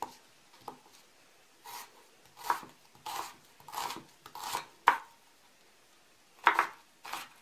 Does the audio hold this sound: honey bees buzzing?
no